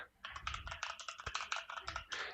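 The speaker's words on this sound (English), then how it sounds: "it also picks up keyboard presses and taps, as you can hear right now" Rapid clicking of computer keyboard keys typed about 30 to 40 cm away, picked up by a Razer Kraken V3 HyperSense headset microphone, a steady quick clatter of individual key presses with a soft low hum underneath.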